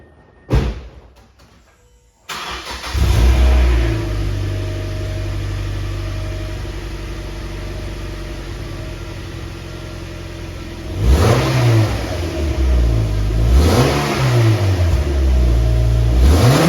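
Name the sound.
Mazda MX-5 Miata stock exhaust revving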